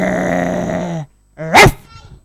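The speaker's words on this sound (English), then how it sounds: "And another loud bark." A big dog first growls and whines in a long sustained tone, then after a short silence lets out one loud, close bark.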